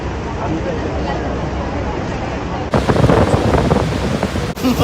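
Niagara Falls gives off a constant, heavy roar of falling water, loud and close, with wind buffeting the microphone and people talking over it.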